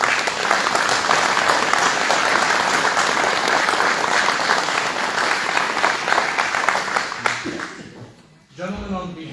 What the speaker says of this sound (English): Give a round of applause to both candidates,